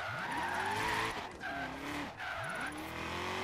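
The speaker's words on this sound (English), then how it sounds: "oh, this is the drift zone. I'm not that good at drifting" Mustang GT350R drifting in the racing game Forza Horizon 3: repeated squealing tire slides, three sweeping skids with engine revs rising and falling between them, close and loud with no talk.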